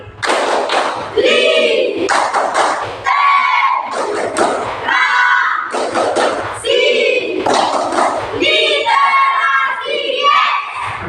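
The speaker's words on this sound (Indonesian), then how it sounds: "1, 2, 3, tepuk literasi." A class of schoolchildren performs a rhythmic clapping chant, bursts of loud unison claps alternating with shouted chanted phrases from many young voices, close and energetic, repeating in a steady pattern.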